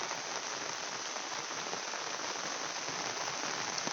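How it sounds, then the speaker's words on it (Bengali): Steady rain falls in front of a village mosque, a dense continuous hiss of drops on surfaces that holds even throughout, with no voices heard. "তারপর আপনাদেরকে দেখাই বৃষ্টি যে হইতে আছে"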